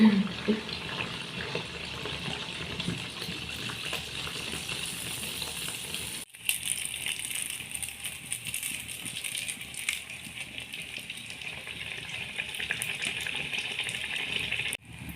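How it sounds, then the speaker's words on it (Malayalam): Neyyappam batter sizzling in hot oil in a pan, a steady broad hiss of frying that continues throughout with a brief dip partway, loud and close with no talk over it. "എണ്ണ ചൂടായിട്ടുണ്ട്. നമുക്ക് ഒഴിച്ചു കൊടുക്കാം. ആദ്യത്തെ നെയ്യപ്പം ഒഴിച്ചു കൊടുത്തിട്ടുണ്ട്."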